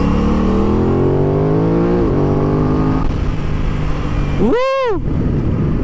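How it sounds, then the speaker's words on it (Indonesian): An Aprilia RS 660 sport motorcycle engine revs steadily, its pitch climbing, then a sharp high-revving blip swells and drops off near the end, loud and close. "Pagi ini kita bakal riding pakai motor baru, Aprilia RS 660."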